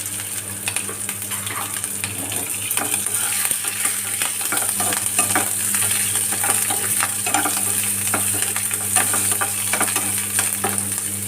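Onions and green chillies sautéing in a pan for a coconut milk fish curry, giving a continuous close sizzle with steady crackling and occasional stirring scrapes, with no talking.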